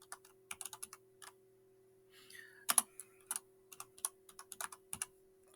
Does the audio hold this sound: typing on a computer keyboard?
yes